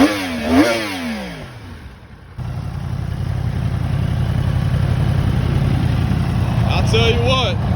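A 2021 Yamaha YZF-R1 with an inline-four 1000cc engine, heard up close: a brief rev rising and falling, then a steady loud idle drone that carries to the end, with a voice over the opening moments.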